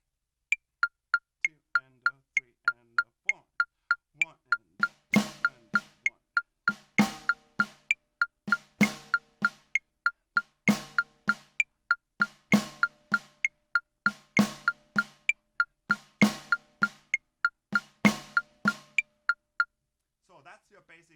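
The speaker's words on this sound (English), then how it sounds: "That was your basic snare pattern" Basic swing-groove snare drum pattern, played as a steady run of crisp, evenly spaced hits with lighter strokes and accented backbeats on 2 and 4, close and clear for about twenty seconds.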